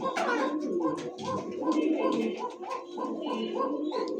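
A pigeon coos nearby in a market selling pigeons and chickens, a repeated rhythmic series of soft throaty calls over low background chatter.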